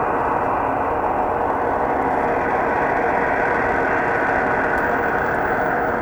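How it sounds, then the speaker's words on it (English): A steady, dense droning rumble made by turning black hole accretion disk image data into sound, holding unchanged and fairly loud throughout with no talking. "turning the brightness and the speed that material is travelling around it into frequencies, into sound"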